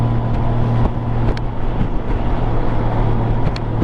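A Honda motorcycle riding away from a dealership, its engine a steady close drone mixed with heavy wind rush, no talking.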